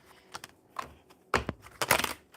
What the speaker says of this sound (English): I'm going to shuffle these cards